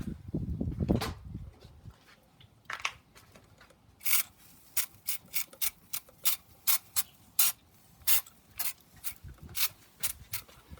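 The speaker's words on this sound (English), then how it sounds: "So I'm going to give it a little spritz." A spray bottle of apple juice mixed with apple cider vinegar spritzes a pork roast on a Weber Smokey Mountain smoker, a series of about a dozen short, sharp hissing bursts in a fairly even rhythm, close up, after some brief handling noise.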